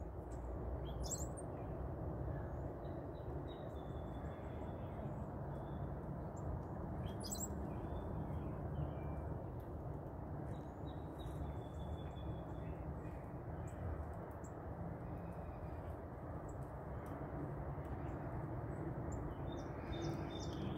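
Wild birds call and chirp around backyard feeders in Georgia, with scattered tweets and sharper calls rising over a steady low hum of background noise, fairly distant and faint, with no one talking.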